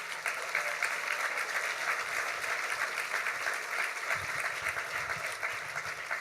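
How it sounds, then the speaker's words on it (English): Warm, sustained applause from a seated crowd at an award luncheon rolls on at a constant level, dense overlapping claps with no pause for the full stretch. "let's give a round of applause to Bone, who's going to be the new general manager of this facility"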